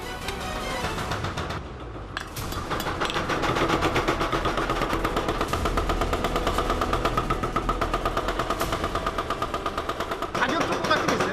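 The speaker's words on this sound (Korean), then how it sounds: "각도를 잡는 동시에 호미의 날이 강해지게끔 망치질로 견고하게 두드리는 것이 포인트" A hoe blade is hammered at a Korean blacksmith forge. After a brief lull, fast, evenly spaced metallic blows ring out loud and close, running continuously for many seconds.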